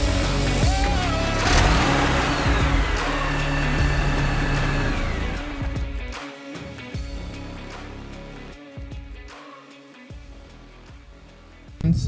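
Engine of a BMW E46 or Fiat 500 car at a drag strip, a loud, steady mid-pitched roar through the first half that rises in pitch, then drops back and fades before a sharp burst at the end.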